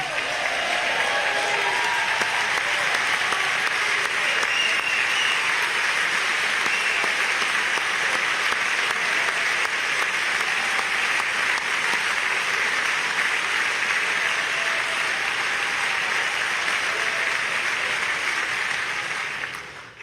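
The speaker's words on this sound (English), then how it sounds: "Robert F. Kennedy gets a standing ovation from the Republicans." Sustained, loud applause from a large Republican crowd giving Robert F. Kennedy Jr. a standing ovation, dense steady clapping and cheering throughout, fading slightly at the very end.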